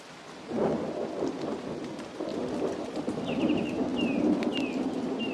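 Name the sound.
thunderstorm with heavy rain in Costa Rican jungle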